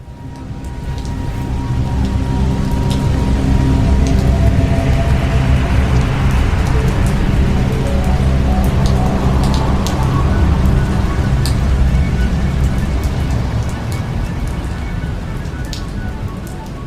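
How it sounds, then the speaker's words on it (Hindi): Light monsoon rain falls in a steady, continuous patter with scattered individual drops, holding an even loudness throughout and heard alone without any voices. "रिमझिम फुहार, ठंडी बयार, खिड़की पर जमी नन्ही नन्ही वर्षा की बूंदें"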